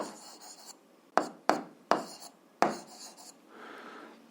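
A pen writing on paper, short scratchy strokes in a few distinct bursts with pauses between them, close and quiet, with no talking.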